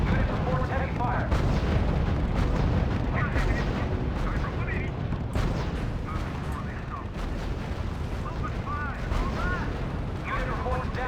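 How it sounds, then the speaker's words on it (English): Heavy gunfire and artillery in the World War II strategy game R.U.S.E., relentless booms, blasts and rattling shots layered into a loud continuous battle din, with voices talking through it. "Unit reports heavy fire."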